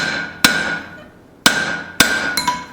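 Hammer blows ring on hot steel as a tomahawk eye is forged around a drift, four sharp metallic strikes with bright ringing decay, close and loud, irregularly spaced with a quick double hit at the end.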